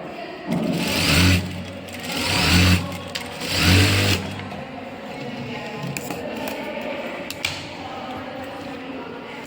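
Sewing machine running in several short bursts while turning-stitching a princess-cut blouse, each run a steady motor whir with rapid needle ticking, separated by pauses with handling noise, fairly close and moderately loud.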